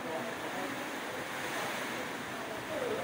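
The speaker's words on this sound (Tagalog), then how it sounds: "Lakas ng hangin at ng ulan." Strong wind roars with a dense rushing hiss, steady and enveloping, like gusts buffeting the microphone amid heavy rain.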